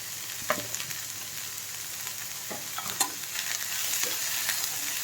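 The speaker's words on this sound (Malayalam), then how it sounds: "ഉള്ളി ചെറുതായിട്ടൊന്ന് വാടിക്കഴിഞ്ഞാൽ ബാക്കി തേങ്ങയും ബദാം, കാഷ്യൂ എല്ലാം കൂടെ ചേർത്തിടാം." Onions, grated coconut, almonds and cashews sauté in a hot pan for a chicken curry, with a soft continuous sizzle broken by a few sharp scrapes and clinks of a spoon stirring, close up and without talk.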